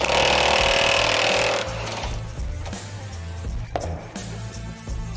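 An electric impact wrench unscrews an M16 bolt in a workshop, a loud continuous hammering rattle that runs throughout, slightly easing after the first second and a half, with a few sharp knocks near the end.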